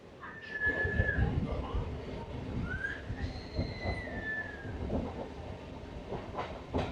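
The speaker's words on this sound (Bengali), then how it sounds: "আমাদের ট্রেন এখন ঢুকছে কিন্নাহাট স্টেশনে" Katwa–Ahmadpur MEMU train pulling into Kirnahar station: a rumbling, rattling carriage interior with rhythmic clatter, plus drawn-out high squeals of brakes or wheels over the track.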